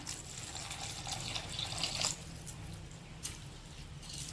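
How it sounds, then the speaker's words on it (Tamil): Water is poured into rice in a pot for a one-pot purple cabbage rice dish, a soft, faint splashing and trickling that swells briefly and then settles. "இப்போ தண்ணியை ஊற்றிடலாம்."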